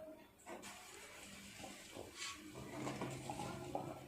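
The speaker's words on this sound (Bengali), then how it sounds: "দিয়ে দেব পরিমাণ মতো জল।" Water pours into a cooking pot for boiling taro, a faint splashing, gurgling stream that runs unevenly for a few seconds at close range.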